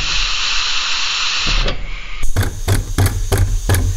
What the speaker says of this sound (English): Blow off valve